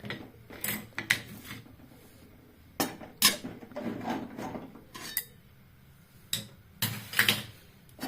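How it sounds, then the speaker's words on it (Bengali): Semolina is fried and stirred in a pan for a savory pilaf, with intermittent scraping and clinking of a utensil against the metal in short, uneven bursts over a quiet background. "এটাকে ভালো করে লাল লাল করে ভেজে নিই"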